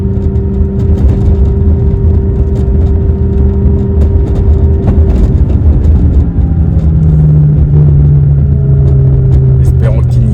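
A McLaren 570S sports car is driven on the road, its engine a steady low rumble with a gear change partway through, heard from inside the cabin under a man's continuous speech.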